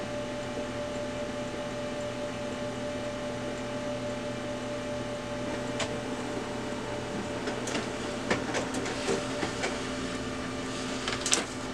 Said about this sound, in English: give this just a second to print out